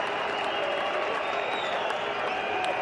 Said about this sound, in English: He's brought the crowd to life again, brought them to the feet.